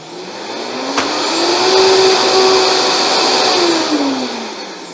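A blender set to high speed churns thick date paste, its motor whining up to a high steady pitch and then dropping back down, loud and close, with no talking.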